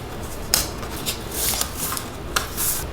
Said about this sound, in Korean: 이렇게 테이핑을 해주면 됩니다.